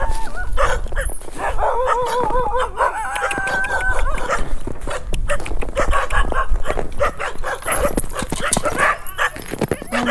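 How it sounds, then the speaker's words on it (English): Village dogs bark and yip loudly and close, a puppy whimpering in high wavering whines among them, with a rooster crowing in the background. "Oh, there's one. There's a puppy."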